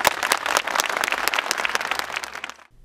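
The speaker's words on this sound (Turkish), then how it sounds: "Biz de Sayın Bakanımızı alkışlıyoruz." Health workers clap for the minister in an uneven, rhythmic burst of hand claps with sharp individual slaps standing out, loud and close, then cutting off abruptly.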